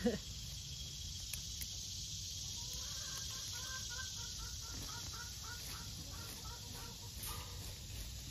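Soft, scattered clucking from chickens at a compost pile a short way off in a homestead garden, over a steady outdoor hum with faint insect chirring.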